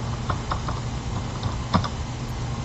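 Keys tapped on a computer keyboard during data entry in accounting software, a handful of light, irregular clicks over steady background hiss with no talk.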